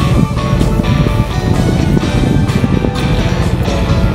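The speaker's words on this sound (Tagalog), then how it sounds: "biglang may dumating ng barko" A ship's engine drones as the vessel arrives at a port in the Philippines, a loud, continuous low rumble mixed with wind and water noise, close by and without pause.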